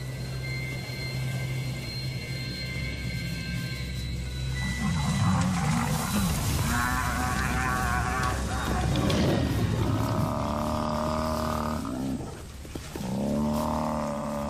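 Lions roar in the Botswana wild as lionesses and cubs attack prey, deep rumbling roars and grunts rising over a steady low rumble, with several loud, drawn-out calls overlapping through the middle and end.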